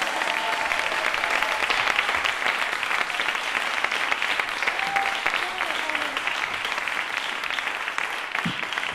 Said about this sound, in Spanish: Y ahora un aplauso fuerte y comenzamos ya.